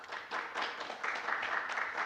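Faint applause at an academic conference session greets a presenting professor, a soft, steady patter of many hands heard from some distance.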